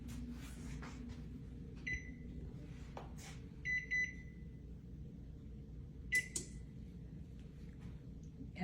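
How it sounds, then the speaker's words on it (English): A kitchen oven timer sounds short electronic beeps in a few separate bursts, fairly faint against a quiet room with low background hum. "Yeah, turn that timer off."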